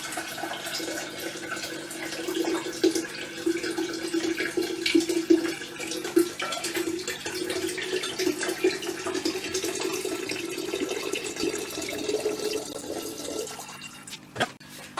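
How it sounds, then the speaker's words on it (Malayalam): Coconut water poured steadily from a container into a vessel, a continuous close splashing trickle lasting many seconds before tapering off near the end. "ഈ പാത്രത്തിലേക്ക് ഒഴിക്കാം"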